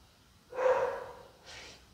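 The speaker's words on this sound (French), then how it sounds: "Oh, c'est le chien." Small dog heard indoors giving one muffled bark followed by a fainter second yelp, brief and somewhat distant, with no talking.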